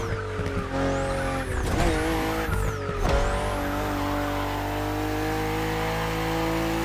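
BMW M4 CSL in The Crew Motorfest game, a steady loud engine note with rising gear sweeps, with tire squeal and skidding in the first three seconds before settling into a sustained high-speed drone.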